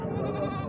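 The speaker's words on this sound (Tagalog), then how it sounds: "At ito naman ay isang malaking kambing, may lahi." A large purebred goat at a livestock market gives one short, close bleat that cuts off quickly.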